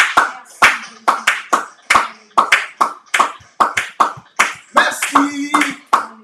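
A church congregation claps in worship, steady rhythmic bursts of hand clapping from many people mixed with voices speaking over it.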